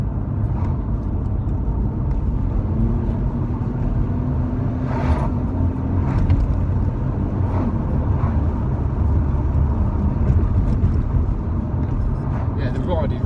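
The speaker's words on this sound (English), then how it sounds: "this is it's a very muffled tone, and that's because it's got the turbo" Inside a turbocharged Mercedes-AMG on the move, a steady, muffled low engine drone and road rumble continue throughout, with faint knocks and rattles over it.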